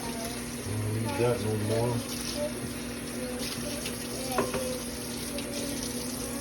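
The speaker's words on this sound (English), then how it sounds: "Rinse this out real quick." Something being rinsed out under a running kitchen tap while cooking a commissary-style mix, a continuous splashing water stream with someone talking briefly over it.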